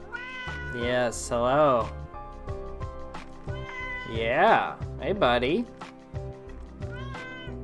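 A cat meows repeatedly, several drawn-out wavering cries spread through the clip, close and clear, while someone talks softly to it between the calls.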